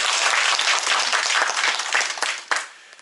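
Sustained applause from a group of people clapping in a room of a historic birthplace house, dense and steady for about two and a half seconds before tapering off, with no speech over it.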